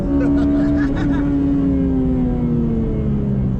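The engine of a Honda Civic Type R FD2 Mugen RR hums as a steady, close drone whose pitch slowly sinks as it eases off, with faint higher rasps early on.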